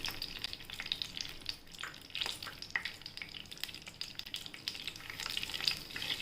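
Mustard seeds and cumin fry in hot oil: a steady close sizzle with scattered sharp crackles and pops that run through the whole stretch.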